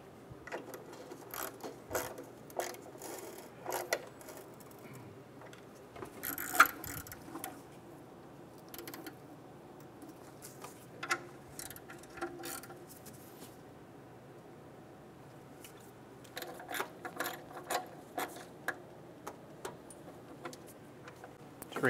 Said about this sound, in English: then go around tightening them